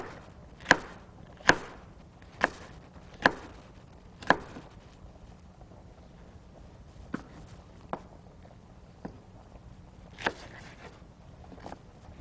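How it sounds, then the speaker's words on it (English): A knife cuts a red pepper into thin strips on a board, landing in clear, evenly spaced chops that turn lighter and more spread out toward the end. "So nice thin strips. We'll cut our red pepper into."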